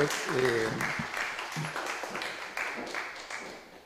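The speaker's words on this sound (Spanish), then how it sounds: "Sí, un aplauso a la profesora." An audience applauds a teacher at an ecopedagogy panel event, with a brief burst of clapping that fades gradually beneath a speaking voice.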